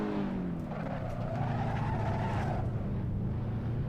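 Tires squeal under heavy braking on a racing car in the Assetto Corsa video game, a sustained screech over a loud droning engine, steady and close.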